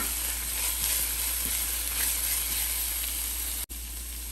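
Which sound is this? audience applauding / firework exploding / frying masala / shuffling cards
frying masala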